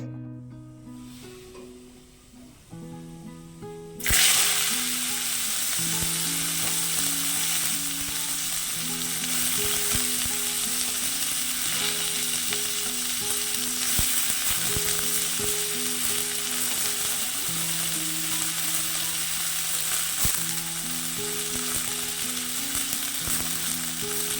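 Food fries in a pan with a loud, steady sizzle that starts suddenly after a few quiet seconds and continues evenly to the end, with a faint tonal hum underneath.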